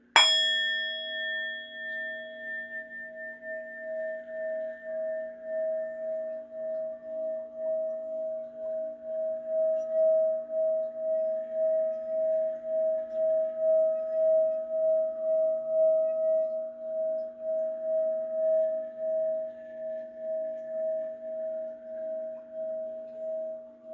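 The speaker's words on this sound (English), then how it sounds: "Let's start off with ringing that doorbell" A single bright chime struck once, then ringing on as a long, steady sustained tone that gently pulses and slowly fades over many seconds in an otherwise quiet space.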